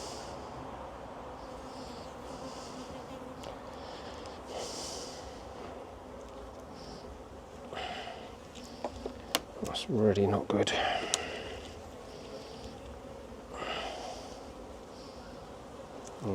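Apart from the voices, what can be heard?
wasp buzzing inside a beehive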